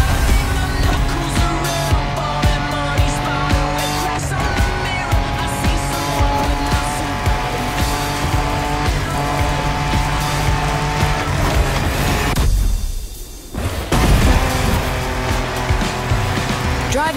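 A car in The Crew Motorfest video game drives off-road, its engine roaring steadily and close with shifting pitch, a brief dip near the end, and a voice talking over it.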